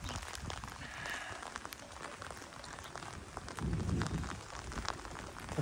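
Rain falls steadily outdoors around a street of five-storey apartment blocks during a storm, a faint, continuous patter with scattered sharper drops and a brief louder gust of wind.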